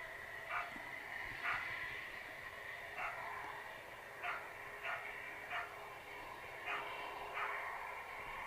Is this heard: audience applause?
no